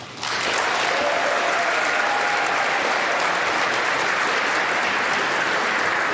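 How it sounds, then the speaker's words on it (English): Loud, sustained applause fills a legislative chamber during an electoral vote count, rising sharply at the start and holding as a dense, steady roar of clapping. "There you get the Democrats clapping."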